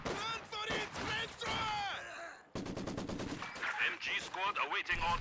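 Maxim machine guns rattle in Company of Heroes 2 gameplay, rapid bursts of automatic fire mixed with other battle effects, playing under a commentator's talk.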